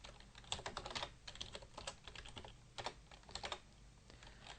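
Someone types the ls Unix command on a computer keyboard: a handful of quick, close key clicks in short irregular bursts with pauses between, fairly quiet and with no talking.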